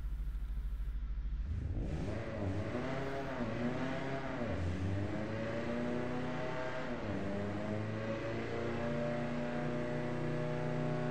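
A car engine on a dyno in the racing game Apex Point starts with a low idle, then revs up hard through repeated rising and falling sweeps as gears change, loud and steady throughout.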